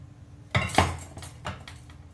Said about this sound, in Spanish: Y con eso voy a rellenar los chiles.